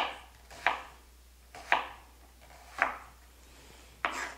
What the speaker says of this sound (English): So I'm chopping up both halves of the onion.